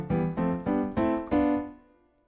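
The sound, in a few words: piano chords played on software piano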